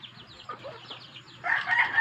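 A native chicken lets out a crow near the end, rising loud after a quieter stretch of faint chirps and farmyard background.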